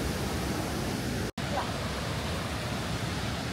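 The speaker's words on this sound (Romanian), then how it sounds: "Mamă, de mare e cascada asta!" A large mountain waterfall in the Himalayas roars as a dense, steady broadband rush, loud and close, with a momentary dropout partway through.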